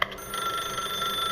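A telephone rings in The Stanley Parable, a steady electronic trill that is moderately loud and continuous and plays alone.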